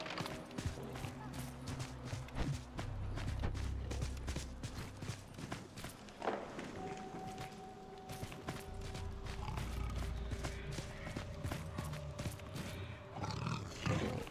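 Deep, growling roars from an ashen Velmera, a horned cat-like mount creature in a video game, rising over hoof clatter and game noise, with a voice talking at times.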